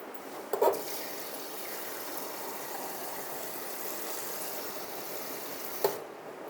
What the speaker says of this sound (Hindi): अब मैं इसमें थोड़ा सा पानी डाल दूँगी ताकि आलू गल जाएं और मटर भी हमारे गल जाएं।